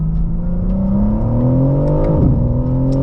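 A 2025 BMW M4 CS engine pulls hard under acceleration, a loud, close rising drone with climbing harmonic tones, a quick dip and shift around two seconds, then continued pull, heard without speech.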